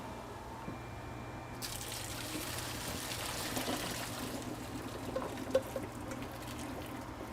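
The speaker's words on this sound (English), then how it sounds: "I'm gonna take some cold water and just run it over the pasta so it immediately stops cooking the pasta further" Cold water from a kitchen tap pours over freshly strained pasta in a colander, a quiet steady splashing rush that swells slightly midway and keeps running to the end without speech.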